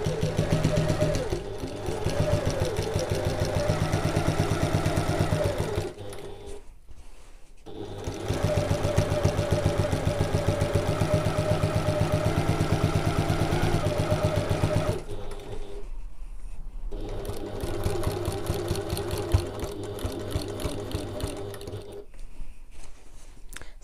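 A sewing machine runs steadily around a bag seam in long continuous bursts, with short back-stitch stops near 6, 15 and 22 seconds before stitching resumes, loud and close with no voices.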